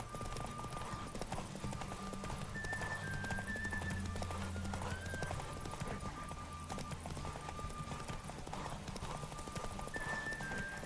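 Roach the horse gallops in The Witcher 3, with steady rhythmic hoofbeats clip-clopping under game music and occasional snorts throughout.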